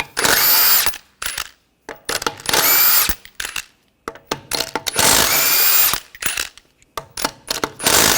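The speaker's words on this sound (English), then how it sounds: "We're going to use a 21mm socket, take the lug nuts off." Impact wrench with a 21mm socket spins lug nuts off a 2014-2020 Nissan Rogue wheel during a front brake caliper job: three loud, long whirring bursts with rattling ratchet clicks between them, close up and with no talk.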